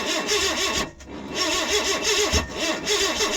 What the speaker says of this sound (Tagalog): Backfire eh.